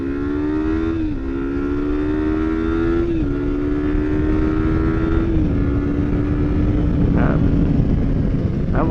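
A Kawasaki Versys X 300 motorcycle revs hard on a highway, its engine note climbing through several gears with brief dips at each shift, loud and close over steady wind rush.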